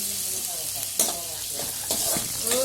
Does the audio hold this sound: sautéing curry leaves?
yes